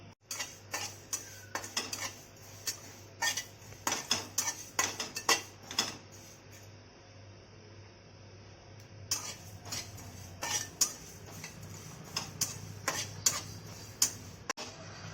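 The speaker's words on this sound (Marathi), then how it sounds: "मी प्रथम काय करत आहे थोडी बडीशोप भाजून घेते" Fennel seeds dry-roast in a pan, stirred with a utensil that clinks and scrapes in quick irregular bursts, with a quieter stretch midway before the tapping picks up again.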